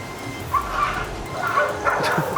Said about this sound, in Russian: Ну что там с собаками случилось?